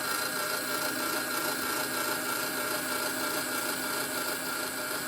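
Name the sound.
winding nylon string on a guitar tuner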